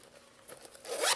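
A zipper on a handmade fabric wristlet clutch is drawn once, quick and close, rising to a brighter rasp at the end.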